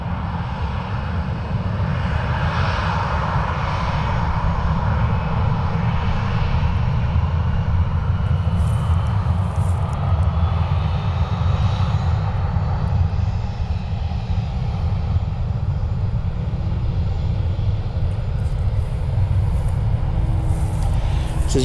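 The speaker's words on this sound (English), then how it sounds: "This is United Flight 1797 heading to Tampa." United Airlines jet engines on a flight bound for Tampa at Cleveland Hopkins give a continuous deep rumbling roar, steady and fairly close, with a faint shifting whine on top throughout.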